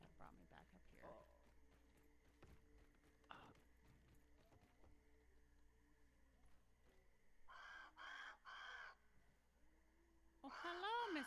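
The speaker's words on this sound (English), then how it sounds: "Hello, Mr. Crow." A crow caws in short bursts of two or three harsh calls outdoors, loud against a quiet background with low rumble and a few faint knocks between calls.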